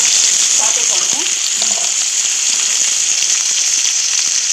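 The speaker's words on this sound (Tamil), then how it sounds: "இப்போ வந்து வெங்காயம் போடுறோம், கருவேப்பிலை ரெண்டுமே போட்டோம்." Onions and curry leaves frying in oil for an anchovy dry-fish thokku, a loud, steady hiss of sizzling close by, with a few faint voice-like sounds early on.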